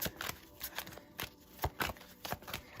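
Tarot cards being shuffled in quick riffled bursts, a dozen or so crisp papery flutters in an irregular rhythm, close and fairly quiet.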